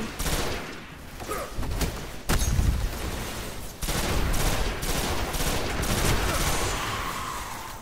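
Rapid bursts of automatic gunfire in the video game Destiny, loud and sustained with a brief pause near the start, dense volleys continuing to the end with no talk.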